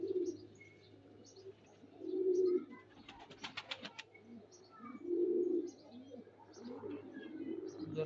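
Pigeon hens kept for flying coo softly at close range in low, rolling bursts, three clear rounds spread across a few seconds. A brief rapid flutter sounds between them.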